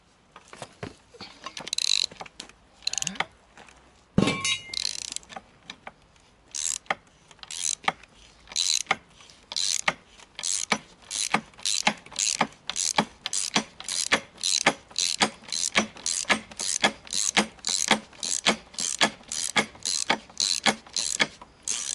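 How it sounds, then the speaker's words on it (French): A ratchet wrench loosens a 26 mm nut on a Citroën Traction 11 suspension, clicking in a steady run of sharp, close strokes that quicken into a regular rhythm, with no talking. "je vais desserrer mon écrou de 26"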